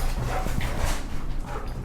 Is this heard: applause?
no